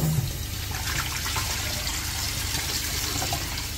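Fresh tap water running over oxtail meat being rinsed in the kitchen, a steady, fairly loud continuous gush and splash with no break and no talking.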